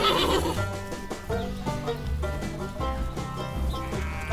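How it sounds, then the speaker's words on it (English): A horse whinnies on a farm, a high neigh rising over a busy, music-like backdrop with several sharp onsets, fairly loud and close for about four seconds. "Look at the horsey!"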